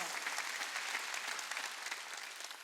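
A church congregation claps together in quick, dense rhythm, a faint and fairly distant burst of applause lasting a couple of seconds.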